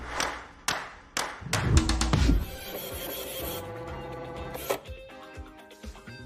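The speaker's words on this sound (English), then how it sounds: "This smart nail printer transforms any image into exquisite designs directly on your nails" A smart nail printer printing a design onto nails gives a series of sharp clicks and thumps, then a steady mechanical whirring with occasional taps, close and fairly quiet, with no voices.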